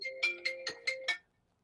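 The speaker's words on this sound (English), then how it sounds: "People are trying to call me." An incoming-call phone ringtone plays six bright, evenly spaced chiming tones over about a second, clear and fairly close, then cuts off into silence.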